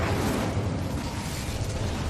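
A fiery Incendio spell from Hogwarts Legacy bursts out as a dense, roaring blast of crackling flame and rumble, loud and close, with no voices.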